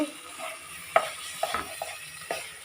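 Carrot halwa with ghee-fried cashews, raisins, almonds and chironji being stirred around the pan, giving a few soft scrapes and clinks against a low, steady background.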